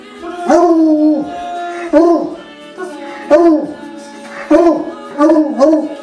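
Several dogs howl together in long, wavering, pitch-bending cries, rising and falling in repeated bursts, loud and close.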